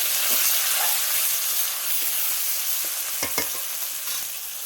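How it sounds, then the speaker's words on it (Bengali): Chopped onions fry loudly in a pan with whole garam masala, a dense continuous sizzle close by, broken by a few sharp scraping strokes of a spatula stirring near the end. "দিয়ে পেঁয়াজটা ভালো করে ভাজা ভাজা করে নেবো।"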